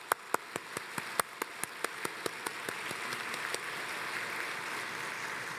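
A church congregation applauds a visiting choir: a few sharp, distinct hand claps stand out at first, then soft, distant, rain-like clapping continues steadily at low volume.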